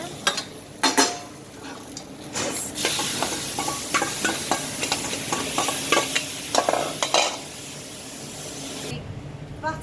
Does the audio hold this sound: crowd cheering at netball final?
no